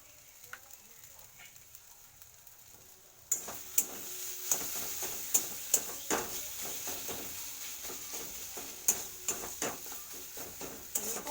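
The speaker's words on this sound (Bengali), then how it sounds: "কাঁচা মশলা কিছুক্ষণ ধরে এটাকে একটু ফ্রাই করে নিতে হবে" Fish oil fries with raw spices in a pan, a soft sizzle broken by repeated sharp taps and scrapes of a stirring spoon against the metal, close and without speech.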